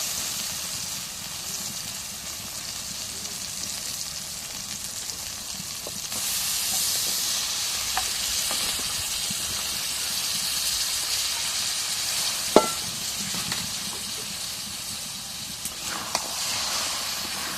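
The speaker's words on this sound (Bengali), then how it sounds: "এখন মশলাটা কষানো হয়ে গেছে এখন ঘুরি আর আলুগুলো দিয়ে দিচ্ছি" Beef tripe and potatoes fry in a spice paste with a steady, hissing sizzle that holds throughout, swelling briefly louder and broken by a few sharp clacks of a utensil against the pan.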